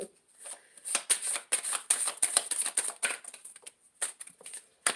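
Close, crisp tarot card shuffling in short bursts, rapid riffling flutters broken by brief pauses, with no voices.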